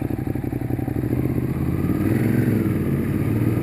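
A Ducati Monster 821 Stripe motorcycle engine drones loud and close while being ridden, a steady low rumble with a rising pitch partway through.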